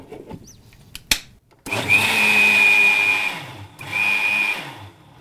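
A kitchen blender whirs, mixing mayonnaise with chili sauce in two loud, steady bursts of a few seconds each, preceded by a sharp knock and a brief handling noise.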